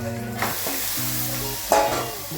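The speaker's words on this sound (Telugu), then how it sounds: "మటన్ వేసి కలపాలి" Mutton for biryani is stirred inside an electric rice cooker, with a steady sizzle under repeated scraping strokes and one louder clatter near the end.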